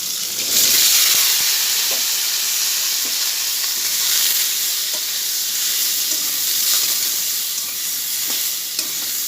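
Ridge gourd sizzling as it fries in a pan, a dense continuous hiss with occasional stirring clicks and scrapes, close up and without any talk.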